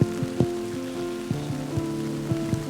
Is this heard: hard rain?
yes